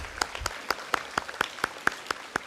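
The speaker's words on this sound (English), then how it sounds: "Let's give him a round of applause." Sparse, evenly spaced claps ring out for a school sports award medallion winner at a junior school celebration, about a dozen distinct hand claps in a steady rhythm, fairly faint and close with no talking.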